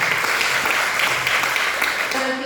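Applause from an audience at a company gathering, a steady broadband patter of clapping hands at an even level throughout, with a faint voice near the end.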